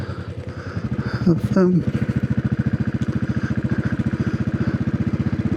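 A Royal Enfield Classic 500 EFI single-cylinder motorcycle riding along a back road, its steady, loud thumping exhaust pulse running close throughout, with a brief voice and wind rush over it early on.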